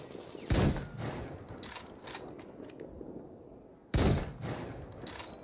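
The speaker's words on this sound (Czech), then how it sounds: "Evidentně střílej po mně." Gunfire in the video game Metro Exodus, two sharp loud shots a few seconds apart, each followed by quieter scattered reports and mechanical clatter.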